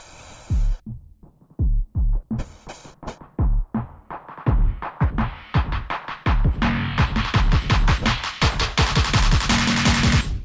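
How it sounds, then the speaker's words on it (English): A drum build-up of layered claps, snares and a stomp kick, starting with sparse thumping hits and gaps, then quickening into dense, loud, rapid-fire rolls. "It's just a bunch of claps and snares layered and a, like, stomp kick."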